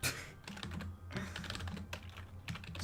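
Rapid typing on a computer keyboard during a game-programming session, with a steady run of close, irregular key clicks and taps over a low background hum, no voices.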